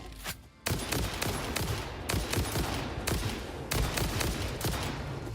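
Bursts of rapid gunfire from the player's weapon in Satisfactory, loud, close and repeated in clusters across the clip, with no talk.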